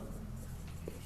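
Writing on an exam answer sheet during an English lesson, faint steady scratching in a quiet room under light background hum.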